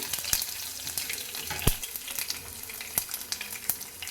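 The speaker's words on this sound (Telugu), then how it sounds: "ఆవాలు జీలకర్ర అయితే చిటపట్లాడుతున్నాయి" Mustard and cumin seeds crackle and pop in hot oil, with irregular sharp snaps over a steady sizzle, close up and with no talking.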